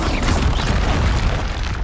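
A Confringo fire spell detonating during combat in Hogwarts Legacy, a loud, dense explosive boom that rumbles continuously for about two seconds with no voice over it.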